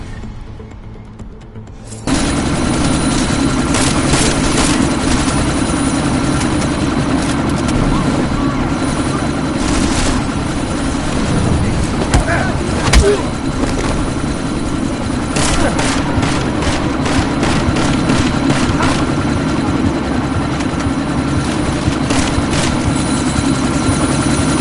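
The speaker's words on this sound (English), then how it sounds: "That chopper's about to take off." A helicopter in a video game idles on the ground, about to take off: a loud, steady rotor and engine drone that begins abruptly and continues throughout, with brief clanks and bursts over it.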